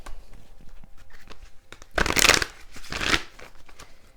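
Tarot cards shuffled by hand in two loud riffling bursts, with quieter handling and soft rustles before and between them, close and with no speech.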